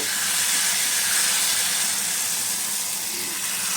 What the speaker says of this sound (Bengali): এইভাবে জিলাপিগুলো ভেজে নেব